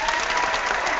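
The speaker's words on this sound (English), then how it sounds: "let me just give you a round of applause" A short burst of dense, steady applause comes from many hands at an online organizing summit, even and continuous for about a second.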